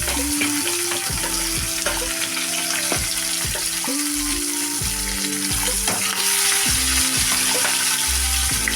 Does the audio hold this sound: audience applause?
no